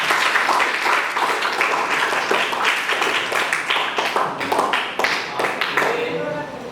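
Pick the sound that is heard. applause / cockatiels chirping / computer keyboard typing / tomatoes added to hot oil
applause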